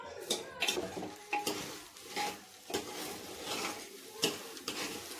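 Rice and lentils stirred with spices in a frying pan, a near scraping of a spoon against metal over soft sizzling, in short repeated strokes.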